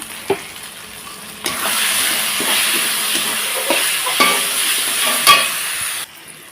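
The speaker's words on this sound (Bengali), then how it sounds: "মশলাটা ভালো করে কষিয়ে নিচ্ছি" Spice masala with plenty of turmeric is sautéed in oil for a mutton curry, a loud continuous sizzle that swells partway through, with occasional scrapes and clinks of the spoon, close up.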